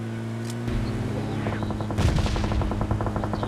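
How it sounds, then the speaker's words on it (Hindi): Heavy automatic gunfire in a mobile shooter game on Android, a rapid sustained burst of evenly spaced shots building over a steady low drone, loud and close, with no talk. "यहाँ बहुत ही जोरों से गोलाबारी चालू है"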